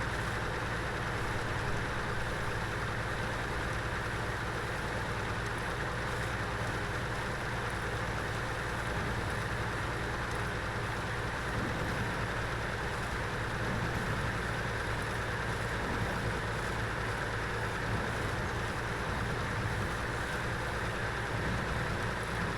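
A Ford F250 pickup truck engine in the video game SnowRunner drones steadily at a low rumble, a constant hum with no change in pitch throughout.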